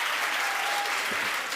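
Studio audience applauding at a Spanish talk show taping, a steady wash of clapping throughout the short stretch, moderately loud and unbroken.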